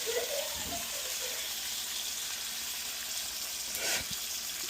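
A wagyu ribeye steak sizzles steadily in a hot pan just after being flipped, a dense, constant frying hiss close by, with a brief stronger crackle near the end and no talking.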